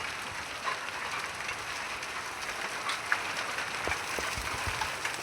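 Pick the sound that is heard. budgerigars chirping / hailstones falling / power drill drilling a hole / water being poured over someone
hailstones falling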